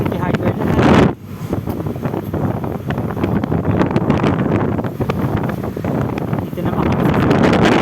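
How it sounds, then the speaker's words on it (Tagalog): Strong wind in Zamboanga roars against the microphone outside a hardware store in a dense, continuous rumble, briefly dipping before surging again. "sama ng panahon, lakas ng hangin"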